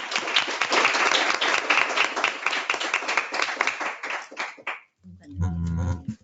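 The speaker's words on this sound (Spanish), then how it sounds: "os pedimos un aplauso de bienvenida particularmente caluroso para ella" Warm welcoming applause from a seminar audience, dense steady clapping for about five seconds that ends abruptly, followed by a brief low rumble and voice.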